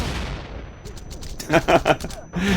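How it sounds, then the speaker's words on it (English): Fire grenades go off in the action video game Wanted: Dead as a quick cluster of crackling bursts after a quiet, hissing lead-in, ending with a lower rumble. "Good old fire grenades."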